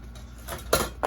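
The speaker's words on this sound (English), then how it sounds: "grab my scissors here and just trim that" A few quick, close snipping cuts, three or so short crisp bursts in under a second, with faint hiss in between.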